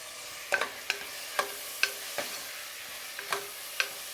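Chopped tomato, onion and curry leaves sauté in a pan with a soft sizzle under sharp, sparse scrapes and taps of a spoon stirring, quiet and close.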